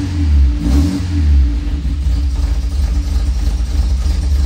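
A 1966 MG MGB engine runs loud and close on gasoline, revving up in a couple of surges before settling into a steady, rumbling idle.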